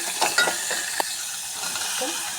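Onion and tomato fry in oil in a pan with a steady sizzle, broken by a few stirring scrapes and clinks, close by and with no talking.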